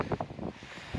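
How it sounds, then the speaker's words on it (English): Gusty wind buffets an outdoor microphone on a cold, wet British day, producing low rumbling thumps and rushes in uneven bursts with no voices. "It's very windy at the moment."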